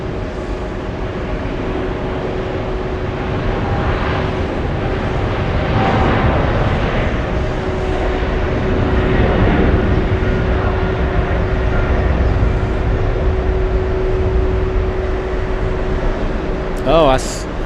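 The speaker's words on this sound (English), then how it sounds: "we're going to stay with the takeoff. This is Kuwait Airways headed to Kuwait City." A Kuwait Airways airliner takes off from JFK Airport, a steady distant jet roar that swells gradually and holds at a broad rumble, with people talking faintly over it.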